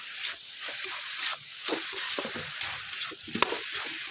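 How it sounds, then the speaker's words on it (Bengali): Steady sizzling and crackling of homemade momos frying in hot oil, with brief louder spatters throughout. "মোমো ভাজা ভাজা হয়েই আসছে"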